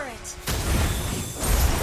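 A turret is destroyed in the mobile game Mobile Legends, giving heavy crumbling bursts and booming impacts over about a second and a half, following a brief tonal game cue.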